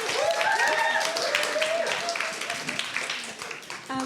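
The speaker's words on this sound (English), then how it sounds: "Round of applause for setting this event up." Dense applause from a crowd at a Reclaim The Streets event in 2023, sustained clapping throughout with shouts and cheering voices mixed in.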